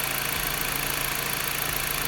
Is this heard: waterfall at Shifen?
no